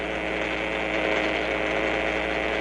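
A Big Trak programmable toy vehicle rolls along with a constant, buzzing motor whirr and gear hum, steady and fairly loud with no pauses.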